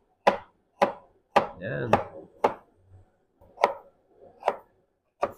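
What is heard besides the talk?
chopping food on a cutting board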